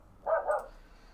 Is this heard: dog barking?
yes